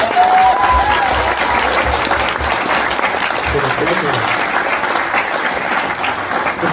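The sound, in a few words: audience applause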